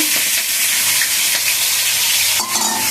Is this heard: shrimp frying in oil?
yes